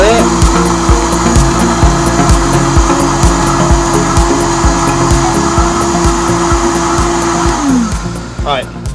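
A blender whirs loudly and steadily as it mixes a drink at a grill and health bar, its motor winding down with a falling pitch just before the end.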